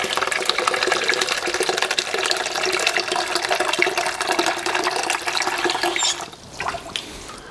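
Water runs from a tap in a pottery studio, a steady close-up rushing splash into a sink that carries on strongly and then drops abruptly near the end.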